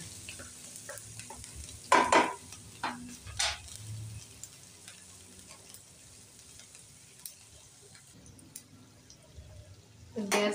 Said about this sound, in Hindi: अदरक हल्की सी भुन गई है हमारी